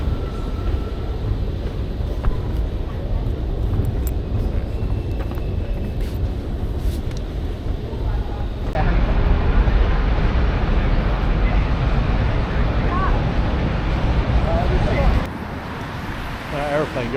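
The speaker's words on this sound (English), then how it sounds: "Aeroplane going overhead, look." An aeroplane passes overhead at night in London, a broad steady roar blended with city traffic and rail noise, loud and continuous, with a person talking over it.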